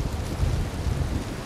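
Steady rain in Uncharted 4 hisses as a dense, even downpour with a low rumbling undertone, close and fairly loud throughout, with no talking.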